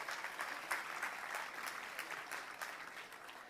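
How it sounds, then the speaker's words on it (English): Sustained crowd applause honoring military veterans at an outdoor ALS charity walk in Los Angeles, with dense, steady clapping that holds at an even level throughout without letting up. "If we could give them a round of applause for our military veterans."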